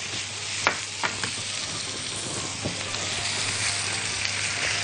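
Carrots and colored bell peppers stir-fry in a pan with a continuous close sizzle, punctuated by several sharp scraping strokes of a utensil.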